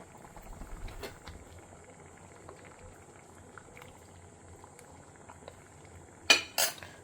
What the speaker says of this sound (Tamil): ஸோ சாம்பார் நல்லா கொதி வந்துடுத்து